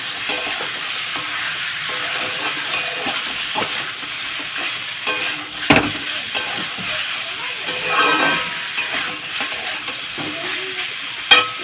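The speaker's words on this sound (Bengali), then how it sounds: "আদা রসুনটা দিয়ে ভালোভাবে কিন্তু মাংসটা একটু ভাজা ভাজা করে নেব।" Meat frying with ginger garlic paste in a pan, a soft continuous sizzle with occasional stirring scrapes and one sharper clatter, fairly quiet and close.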